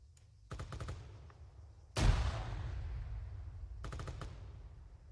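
Gunfire in the video game Arma 3: a few quick clusters of rapid shots, then a loud blast around the two-second mark that trails off into a long rumble, and later another burst of rapid shots.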